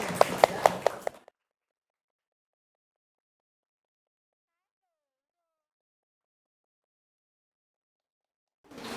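Classmates in a classroom clap their hands in a short burst of about a second of sharp, rhythmic claps, followed by a long silence and a faint sound returning at the very end.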